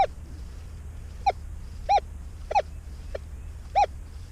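A Minelab Equinox 800 metal detector in prospecting mode gives six short, bright beeping tones, spaced unevenly over a few seconds, heard clearly outdoors above faint low background noise.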